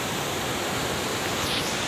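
A river rushes steadily through Kalam valley, a continuous broadband roar of flowing water, close and even in level, with no voices over it.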